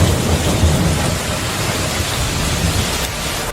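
A violent wind and rain storm with thunder, heavy rain roaring steadily and loudly throughout with deep rumbling underneath, no voices.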